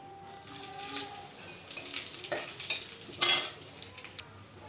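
Whole spices temper in hot oil in a home kitchen pan, sizzling and crackling with a stirring utensil scraping, close and moderately loud, with one brief louder sizzle burst partway through.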